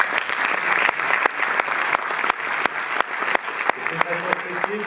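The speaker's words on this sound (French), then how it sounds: "on peut l'applaudir" Audience applause in a Paris cinémathèque hall at the opening of a Carlo Lizzani retrospective, a dense clapping crowd with sharp individual claps standing out, loud and close, a voice faintly heard beneath.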